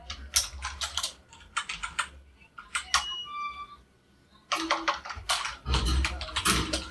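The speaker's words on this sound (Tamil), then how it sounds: "டைப் பண்ணுறோம்." Rapid bursts of keystrokes on a computer keyboard while writing HTML code, clustered clicks in quick runs separated by short pauses, close and clear with no talking.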